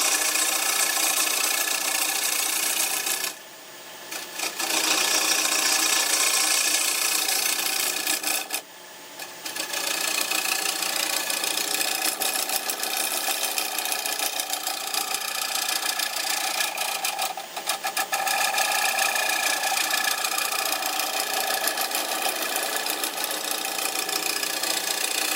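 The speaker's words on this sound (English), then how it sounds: "just going to use the gouge on its side here and pull back, take small cuts" Gouge held on its side takes small, steady cuts on wood spinning on a lathe, while a tea light holder is turned; a continuous broadband rasping hiss with two brief pauses, close and loud, with no talking.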